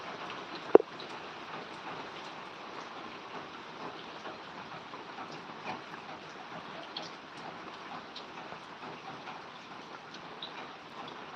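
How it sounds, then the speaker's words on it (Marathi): Heavy rain falls in Solapur district, a steady, even hiss of downpour with one sharp knock near the start and no voices. "हा पाऊस जवळजवळ तब्बल महिन्यानंतर हा पडत आहे"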